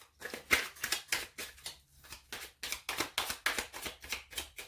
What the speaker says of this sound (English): When I find that my cards don't want to shuffle